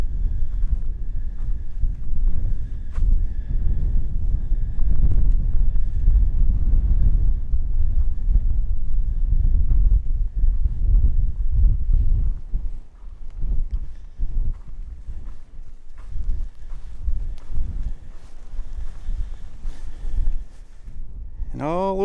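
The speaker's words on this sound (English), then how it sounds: "Wow, that wind won't let up." Strong, relentless wind roars and buffets the microphone in open prairie badlands of Alberta's Red Rock Coulee, a loud low rumble throughout with a brief lull midway.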